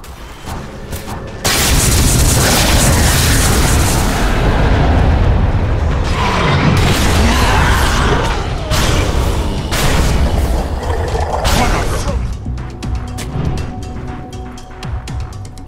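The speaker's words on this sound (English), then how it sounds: "Dire's top tower has been destroyed" A Dota 2 tower is destroyed in a loud video game explosion: a sudden heavy boom that swells into a long, roaring, rumbling collapse with crumbling debris, slowly fading into scattered clicks.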